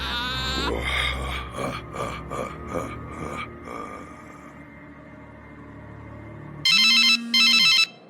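A telephone rings in two loud, bright bursts near the end of a scene, just before a call is answered, following a stretch of other sounds with no talk over the ringing.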